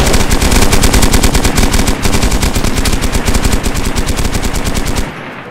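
Rapid automatic gunfire in the survival video game DayZ, a loud sustained burst of closely spaced shots with a few brief gaps, cutting off abruptly near the end.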